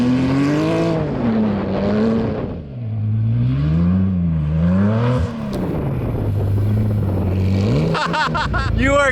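A supercharged Porsche drifts on a frozen lake, its engine loud and close, revving up and down in long sweeping surges with a supercharger whine, a brief clatter near the end.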